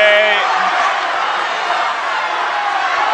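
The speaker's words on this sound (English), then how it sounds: "The crowd is chanting camera." Studio audience of a televised game show chanting loudly in unison for a Canon camera prize, a dense sustained crowd roar filling the whole stretch, with a brief voice near the start.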